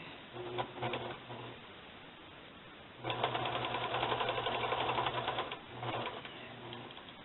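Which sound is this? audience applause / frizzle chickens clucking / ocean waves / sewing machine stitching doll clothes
sewing machine stitching doll clothes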